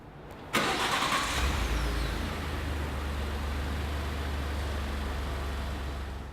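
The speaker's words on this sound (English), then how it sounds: "So we check the operation of the remote start system." A pre-owned car is started with its remote start system: a quick crank catches at once and settles into a steady, loud idle hum close by.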